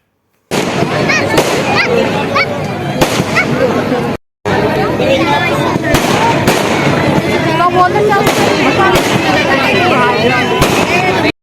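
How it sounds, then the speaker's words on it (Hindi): Firecrackers bursting at a lagan sagai engagement ceremony, dense rapid crackling and popping bangs close by, one brief pause partway through, with crowd chatter beneath. "बम पटाखे भटकने स्टार्ट हो गए थे"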